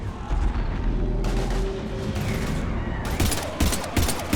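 Gunfire in the video game Mass Effect 3 Legendary Edition, with repeated loud bursts and booming shots in a dense battle mix, growing sharper and more rapid toward the end.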